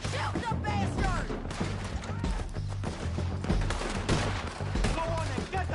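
Gunfire rattles through a Red Dead Redemption 2 shootout, with dense, repeated shots and bursts layered over shouting voices and tense in-game music, loud and continuous throughout.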